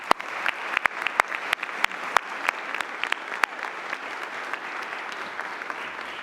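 An audience applauds at a 30th anniversary celebration of the COPS Office: steady clapping for about six seconds, with sharp individual claps standing out close by against the softer crowd.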